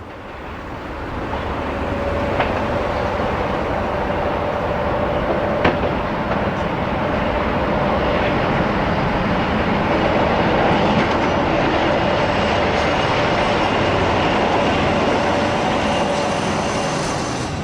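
A British Rail Class 47 diesel locomotive rumbles steadily as it pulls away from Eastleigh, a broad continuous roar with a faint tonal whine, sustained for the whole stretch.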